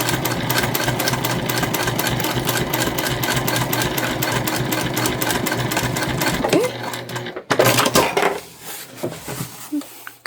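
A sewing machine top stitches along the edge of a fabric book sleeve, running in a fast steady mechanical chatter for several seconds before stopping, followed by brief handling sounds and a voice speaking.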